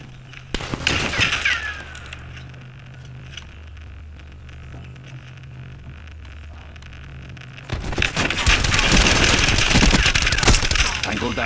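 Bursts of Call of Duty 4 gunfire, a loud crackling volley near the start and a dense sustained barrage from about eight seconds on, with quieter stretches between.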